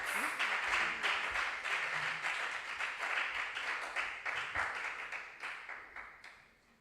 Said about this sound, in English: A round of applause for our contestants.